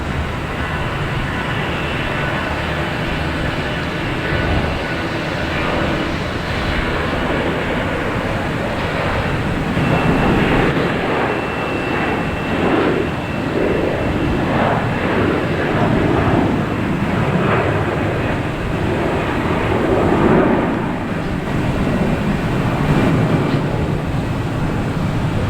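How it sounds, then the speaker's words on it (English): A Delta Airbus A321 takes off from Minneapolis, its engines a broad, sustained roar that swells around the middle and holds steady, loud and continuous throughout. "we have a Delta taking off from Minneapolis, an A321"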